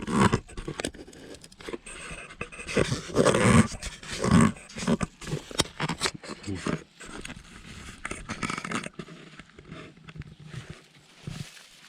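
Dog panting and growling up close, in irregular bursts with louder rough patches, while people talk intermittently nearby.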